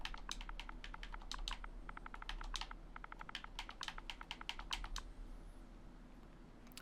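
Rapid keystrokes on a computer keyboard as dev commands for Valheim cheats are typed, coming in quick bursts with short pauses, close and clear over a faint low hum, ending in quiet.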